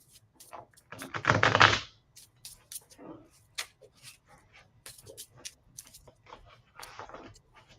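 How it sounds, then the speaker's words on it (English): Tarot cards are shuffled close by, with a burst of riffling flutter followed by scattered soft taps and card slaps, quiet and intermittent, with no speech. "And I am shuffling."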